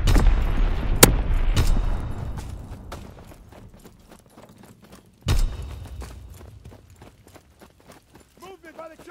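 Mortar rounds fire in the World War II shooter Call of Duty: WWII, with a few sharp booming reports over rumbling battlefield noise, the loudest arriving midway.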